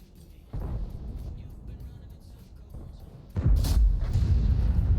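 Tank cannon fire with HE shells in World of Tanks from the WZ-111G FT tank destroyer, two heavy booming blasts, the second louder and longer, close and loud with a rumbling tail.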